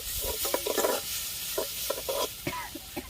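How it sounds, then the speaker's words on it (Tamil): Tomatoes sautéing in a pan for a village-style fish curry, a steady hissing sizzle under repeated scraping stirs and clinks of a utensil against the pan, close and moderately loud. "தக்காளி லைட்டாக வதங்கட்டும்."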